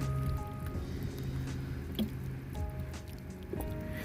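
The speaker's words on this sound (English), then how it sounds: "we're still going to give it a little water, just a little bit" Water poured from a watering can or hose onto moist garden soil at night, giving soft dripping and squishy trickling sounds, close and fairly quiet, with no talking.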